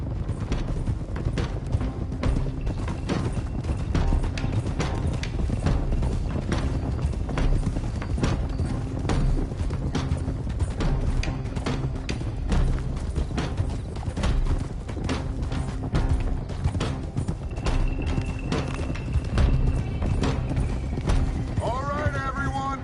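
Horses galloping in a video game, a steady fast clip-clop of several hooves running on together for a long stretch, with a spoken voice over it.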